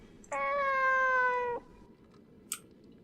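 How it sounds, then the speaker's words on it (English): A cat in the video game Fragile Dreams gives one clear, drawn-out meow lasting about a second, followed by a short sharp click in a quiet setting. "The cat's meowing on the other side"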